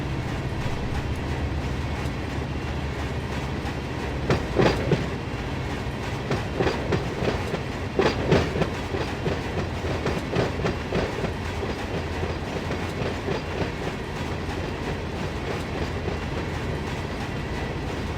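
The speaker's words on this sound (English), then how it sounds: "you can hear another through freight charging through on the main line" A through freight train charges past on the main line in the Run 8 train simulator, BNSF local setting: a steady heavy rumble with rhythmic clickety-clack of wheels over rail joints, continuous and fairly close, with no talking.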